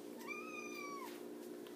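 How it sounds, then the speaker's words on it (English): A single clear meow from a house cat, rising then falling and lasting about a second, heard close over a steady low indoor hum. "That's our cat Tuesday, by the way."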